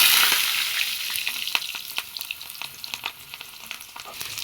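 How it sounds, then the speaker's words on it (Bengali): Potato pieces sizzle and crackle steadily in hot oil in a wok, a dense, bright frying hiss with small popping bursts throughout and no talking. "তো আলু দিয়ে দিয়েছি কড়াইয়ে"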